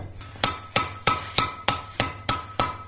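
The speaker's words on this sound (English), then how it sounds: "it's a little over 3 pound hammer I'm using" Heavy hammer of a little over 3 pounds forging hot metal on an anvil for a ball-end coat and hat hook, eight sharp ringing blows in a steady rhythm, close and alone.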